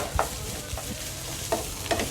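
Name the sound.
stirring carrot halwa in a pan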